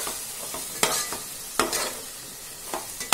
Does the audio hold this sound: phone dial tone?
no